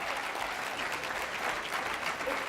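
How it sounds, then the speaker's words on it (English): Seated advocates at tables during a network convening give a round of applause, a fairly soft and even wash of clapping. "another round of applause"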